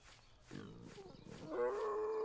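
A low, grunting pig call rises into a drawn-out moaning squeal, a cartoonish creature sound from the game Rake, heard close and alone.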